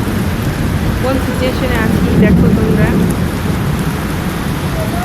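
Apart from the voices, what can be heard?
heavy rain with thunder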